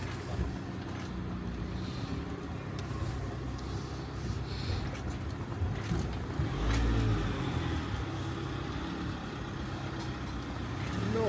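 Camper van drives slowly down a narrow lane in Spain, its engine a steady low rumble throughout, with faint rattles and no talk.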